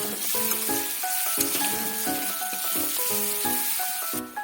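Capsicum seasoned with salt and turmeric sizzles steadily in a pan for a vegetarian momo filling, a continuous close crackling hiss with soft bubbling pops throughout and no talk.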